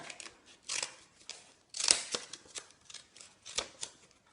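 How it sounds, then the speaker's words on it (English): Scissors snip through paper folded into four thicknesses to cut triangles for bunting, giving several crisp separate cuts at an uneven rhythm, close and fairly quiet with no talk over them. "start at the point and cut back up to the other corner, which was at the top"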